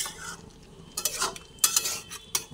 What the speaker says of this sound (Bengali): ঘি দেওয়ার পরে আবার একটু ভালোভাবে এধার ওধার করে ঘিটা পুরো এঁচোড়টার মধ্যে মিশিয়ে দিচ্ছি